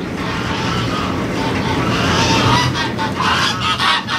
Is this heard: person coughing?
no